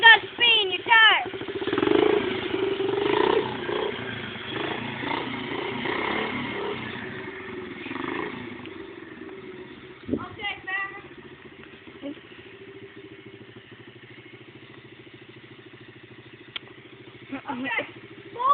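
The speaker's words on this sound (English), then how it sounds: "So rev it slightly while holding the brake on, then kick it in the first." A pit bike engine revs lightly while the brake is held, a buzzing motor running under close, steady talk, with a few sharper throttle blips later on.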